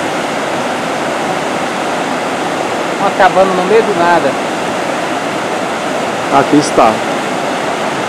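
The Cachoeira da Ema waterfall roars in a constant, close, full wash of falling water, while people talk briefly over it twice.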